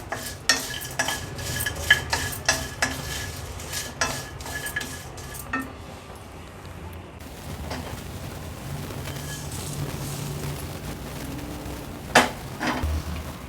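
Mace, cardamom and nutmeg dry-roasting in a pan, with sharp metallic clinks and scrapes of a utensil stirring over a steady faint background hiss.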